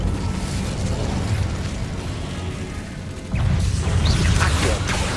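A fire spell cast in Hogwarts Legacy, a dense rushing burst with crackling flame that surges louder midway through, over a busy game soundscape.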